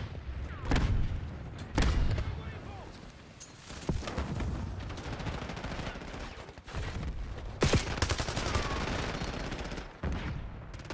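In a first-person shooter match, a C4 charge detonates and bursts of automatic gunfire follow, with several loud booms and rapid fusillades up close.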